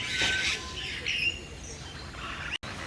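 Pink flamingos at Bird Park Singapore giving a few faint, scattered squawks and chirps at some distance, with quiet ambient noise between the calls and a brief dropout near the end.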